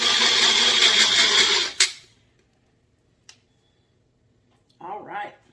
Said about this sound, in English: you could certainly use a hand blender to bring this together